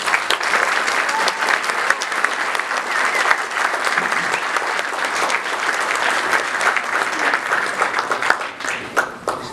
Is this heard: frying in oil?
no